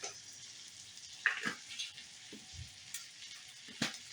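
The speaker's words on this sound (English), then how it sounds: "I'm going to be adding some grass-fed beef." Grass-fed ground beef, 80% lean and 20% fat, fries in a pan with a soft, quiet sizzle, punctuated by scattered spatters and a few clinks of stirring.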